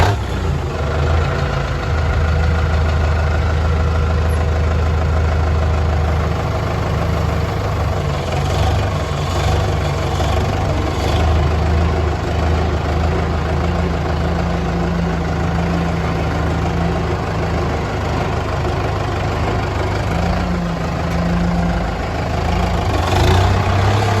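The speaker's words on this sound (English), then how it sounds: "So we're just gonna get the tractor started and go pick it up and drive it down there." A farm tractor engine idling steadily out in the outback, a continuous low rumbling drone close by with slight fluctuations and no talk.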